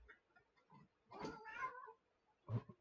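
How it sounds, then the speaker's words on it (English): A cat meows a few times up close and fairly quietly, with short separate cries and a final brief mew after a pause. "Meow."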